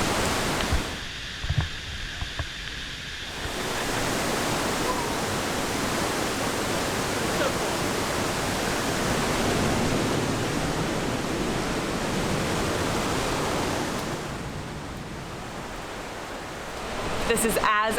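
Waterfalls roar through the Watkins Glen gorge as a loud, steady, broadband rush that holds for most of the stretch, with brief talk near the start.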